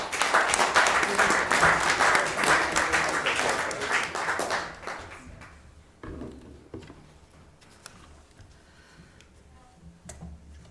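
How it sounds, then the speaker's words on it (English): An audience at a city council meeting applauds in steady, dense clapping that fades away after about five seconds, leaving a quieter room with scattered knocks. "Another round of applause for Abdul Jabbar."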